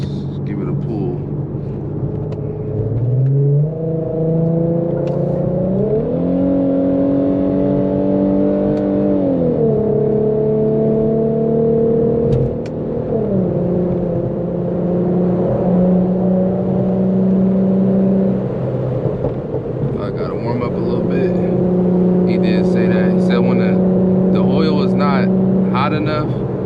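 A tuned Infiniti Q50 accelerates hard in a pull, its engine note climbing through several gear-like steps, loud and close, with a muffled in-cabin drone and faint crackling pops near the end.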